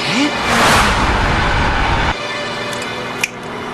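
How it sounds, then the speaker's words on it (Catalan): A runaway bus engine roars in a cartoon, sounding loud and close as it revs and strains, then drops off abruptly, followed by a quieter hum and a brief sharp knock. "Ulrich, el Shan vol estavellar l'autobús contra el complex petroquímic"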